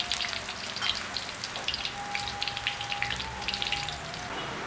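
A single shallot sizzles in hot coconut oil in a pan, a steady close crackle and spatter of popping bubbles that runs continuously with no talking.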